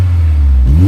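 A Honda S2000 engine revs up with a deep, throaty Mugen exhaust rumble that rises in pitch near the end, loud and close.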